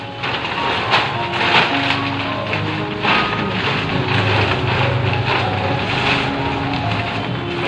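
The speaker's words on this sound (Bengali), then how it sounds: "বৃষ্টি চলে এলো দেখো।" Rain beginning to fall outdoors at a rural Bengali home, a steady broadband patter and hiss with scattered louder bursts that holds at an even level throughout, with no voices present.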